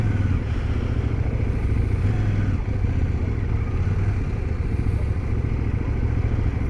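A motorcycle rides over a dirt road, its medium engine droning steadily and loudly for the whole stretch, with rough rattling and clatter from the uneven ground mixed in and no voices.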